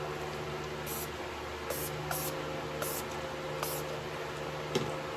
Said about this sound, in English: Let's spray it with alcohol.